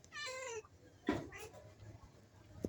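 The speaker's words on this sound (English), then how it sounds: "Yeah, that's our cat." A farm cat meows once in a drawn-out, high, wavering call near the start, followed by a couple of short bumps and faint background noise on a chicken farm.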